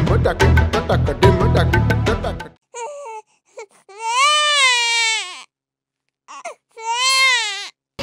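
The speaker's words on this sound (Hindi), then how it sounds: "अरे ये रोने की आवाज़ कहाँ से आ रही है?" Loud, wailing cartoon crying from a Nagin story, several drawn-out sobbing wails with pitch rising and falling, separated by short pauses after a burst of music at the start.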